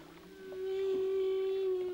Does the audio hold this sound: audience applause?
no